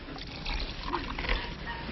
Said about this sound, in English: Then he poured in some water.